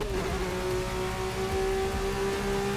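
Rain falls steadily over a race car driving in Forza Motorsport 6, a constant wash of hiss with a steady engine drone and a sustained tonal whine, continuous and fairly loud throughout.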